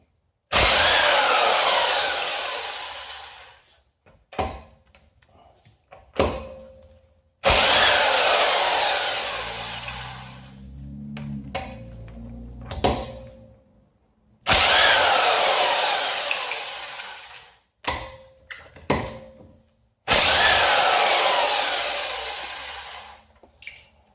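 A Harbor Freight electric impact wrench hammers on car lug nuts in four loud, sustained bursts, each a few seconds long and separated by short pauses filled with clanks and handling noises.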